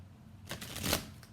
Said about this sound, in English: I'm going to give them a few shuffles.